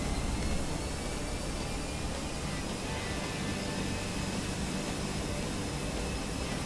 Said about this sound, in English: APU's running.